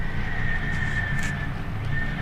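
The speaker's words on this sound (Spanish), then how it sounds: "Esta vez al ganado se les unieron los caballos y las ovejas." Horses neighing and whinnying from a livestock corral, with faint hoof clip-clop beneath a steady, loud bed of low rumbling noise throughout.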